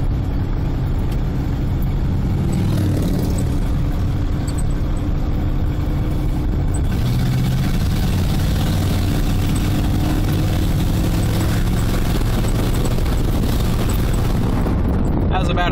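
A 1994 Ford Bronco with a 302 V8 revs to about a third throttle, a loud, deep rumbling engine roar that rises and holds close up, with faint talk in the background.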